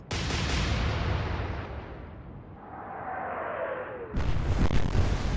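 Heavy battleship guns boom and shells explode in the naval warship game Atlantic Fleet, a loud rumbling blast that swells, dips into a hissing decay, then erupts again with a sharp new burst near the end.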